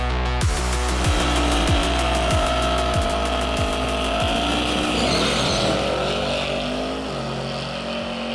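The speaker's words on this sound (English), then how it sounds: "taking a Hellcat for a spin" A Dodge Hellcat at the Tierp Arena drag strip, engine roaring loud and close with a rough, rapidly pulsing idle that climbs into a sustained rising rev before easing off.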